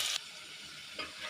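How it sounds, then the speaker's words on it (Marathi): Garlic tempering in hot oil for a home-style cashew curry: two short bursts of sharp, loud sizzling, one at the very start and one near the end, with a quieter oily hiss between and no voices. "सर्वात आधी तेल घालून लसणीची फोडणी दिली।"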